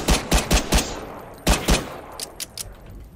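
Gunfire in the video game Fight or Flight: four quick loud shots, a pause, then two more sharp reports followed by several fainter, scattered shots, with no talking.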